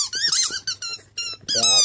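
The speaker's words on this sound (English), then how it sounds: "Oh, it's still squeaking." A Border Terrier chomps on a new squeaky toy, producing a rapid series of sharp, high-pitched squeaks in short bursts, loud and close.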